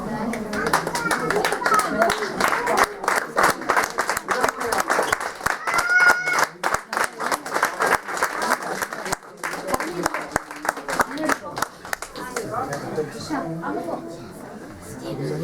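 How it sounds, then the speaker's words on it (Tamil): Sustained, dense clapping from a gathered audience at an International Mother Language Day event welcoming first-time attendees, loud and steady for most of the stretch, with voices mixed in and a thinning toward the end. "அவங்களுக்கு ஒரு கரகோஷம்"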